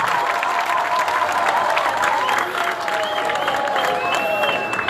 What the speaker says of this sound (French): Applaudissons pour la majorité,